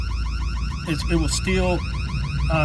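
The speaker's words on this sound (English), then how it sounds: "It'll give you an alarm sound, so it's different from all the other notifications." A short electronic phone app alarm alert with rising, warbling pulses sounds over steady background noise, with a voice speaking briefly alongside it.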